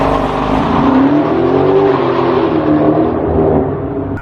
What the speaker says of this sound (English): every time I remote start this joint, it sounds like I got a custom exhaust on it